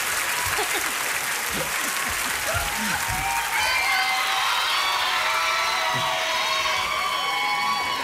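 An awards show audience applauds continuously, a dense wash of clapping with some cheers and whoops rising near the end.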